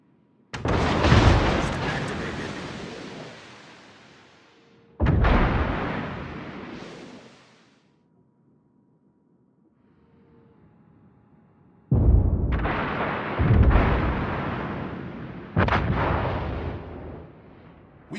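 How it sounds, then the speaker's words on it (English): Heavy naval gun salvos from warships in World of Warships, deep booming blasts in separate bursts with long rumbling tails, loud and close, separated by brief quiet gaps. "Concentrate fire on the enemy warship."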